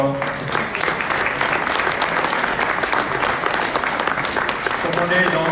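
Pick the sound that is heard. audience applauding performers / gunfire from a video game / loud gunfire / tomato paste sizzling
audience applauding performers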